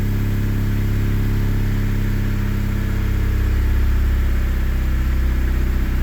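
A Honda Prelude car engine runs at high idle, a loud, steady, close drone with a deep hum that holds throughout.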